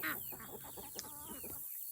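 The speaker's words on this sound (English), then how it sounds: "We got some chickens right up here." Chickens cluck in a quick run of short, close calls over about two seconds, fairly faint, cutting off abruptly at the end.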